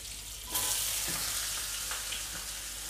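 Green chillies and spices are tempered in hot oil for a fish ball curry, bursting into a sudden loud sizzle that settles into a steady crackle with brief stirring clatters.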